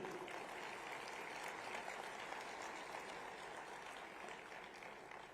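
Steady applause from a conference audience at Mahatma Mandir, Gandhinagar, dense and sustained throughout with no pauses, tapering slightly toward the end.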